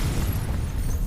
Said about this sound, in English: Where are you throwing the grenade?